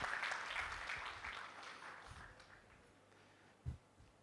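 Applause for a Rotary Club of Vapi Riverside member at a district governor's installation ceremony, a moderate crowd clapping that fades over a few seconds, followed by a single sharp thump.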